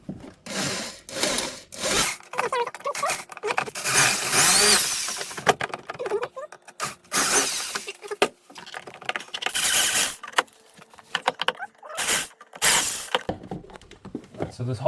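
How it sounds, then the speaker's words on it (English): A power drill whirs in repeated bursts while repairing a crank-type window roller shutter, biting into material with grinding and scraping between pulses, while a person talks nearby. "I usually have to drill a little bit more just so the shaft doesn't interfere."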